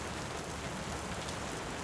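Rain falls steadily near a heron nest, a dense even hiss of drops on surfaces with no break and no other clear sounds.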